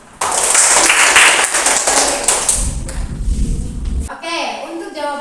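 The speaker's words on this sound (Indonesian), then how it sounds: "Silakan kita tepuk tangan dulu" A classroom of children claps in a short burst after a student presentation, dense taps and thuds filling the first few seconds before fading, with a teacher's voice speaking over the end.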